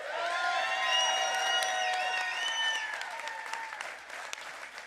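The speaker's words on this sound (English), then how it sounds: "Please give her a round of applause." Applause from an audience at a Virginia Attorney General speaking event, clapping under loud sustained music with sliding tones, the clapping more exposed as the music drops away near the end.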